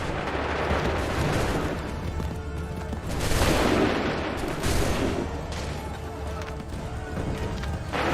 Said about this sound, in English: Make ready! Shoot! Wait for my signal. Fire now!